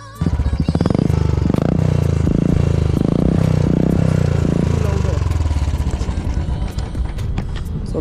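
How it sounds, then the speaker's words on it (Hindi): Loud, fully modified exhaust on a Royal Enfield Classic 350 BS6 motorcycle, booming in a series of rhythmic revving pulses close by, then settling into a rough, thumping idle, with no talk over it. "इसका एग्जॉस्ट की साउंड आप एक बार दोबारा सुनना।"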